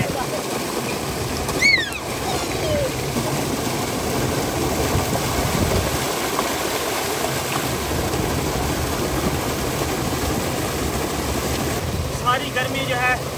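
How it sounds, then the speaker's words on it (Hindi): Water from a solar-powered tube well gushes continuously at close range in a village setting in Pakistan, a steady broad rushing roar with a brief bird-like chirp near the start. "जितना ही ऊपर सूरज गर्म निकल रहा है उतनी तेजी से पानी भी बाहर आ रहा है क्योंकि ये सोलर लगा हुआ है"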